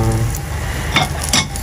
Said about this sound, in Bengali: এই আমাদের কুমড়া কষানো হয়ে গেছে